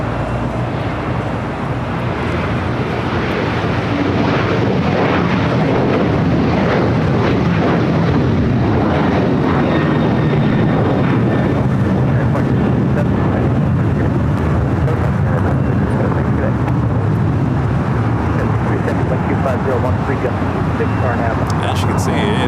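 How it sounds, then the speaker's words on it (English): A Delta airliner taking off at LAX gives a loud, sustained broadband engine roar lasting the whole stretch, with a faint voice mixed in. "Delta taking off"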